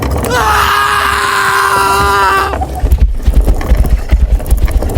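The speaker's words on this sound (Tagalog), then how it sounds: "Patakbuhin niyo ng mabilis itong kariton. Hatawin niyo ng gusto ang kabayo" Horse hooves clopping in an uneven rhythm as the animal pulls a cart, loud and close, following a long drawn-out wailing cry.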